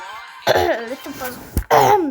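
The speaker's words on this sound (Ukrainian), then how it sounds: "Я трохи буду кашляти. У мене трохи кашель." Someone talks and breaks off with a short, sharp cough close to the microphone, then keeps speaking.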